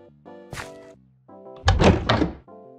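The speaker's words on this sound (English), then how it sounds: "I personally am a fan of the Minecraft:wooden_door.open sound, which just plays when you open a door." Minecraft wooden door opening sound, pitched down, heard as two deep thunks, the second louder and longer, over quiet, steady tonal background music.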